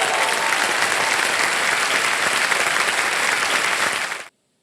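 Studio audience at the KBC quiz show breaking into loud, sustained applause, a dense wash of many hands clapping at close range that cuts off abruptly after about four seconds.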